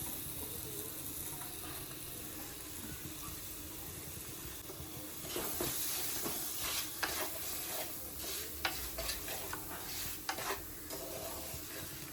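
Chilli powder hitting hot oil in a pan while cooking dried prawns with mango, a soft continuous sizzle with scattered stirring scrapes and clicks, faint and close, no talking.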